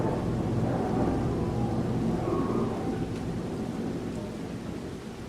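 Steady rain pours with low rolling thunder in a Farming Simulator 25 storm, a dense even hiss and rumble that holds throughout and eases slightly toward the end, with no voices.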